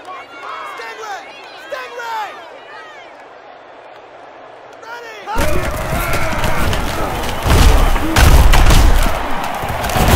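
Video game stadium crowd from NCAA Football 11, Florida State against Clemson: a roaring crowd swells in halfway through and stays loud, rising further near the end, after an opening stretch of quieter talk.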